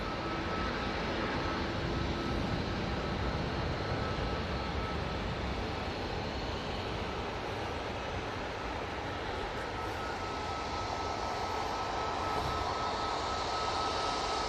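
A Virgin Atlantic Airbus A330-300 arriving at Manchester Airport from Atlanta gives a faint, distant, continuous jet roar that holds steady without any clear peak. No voices are heard.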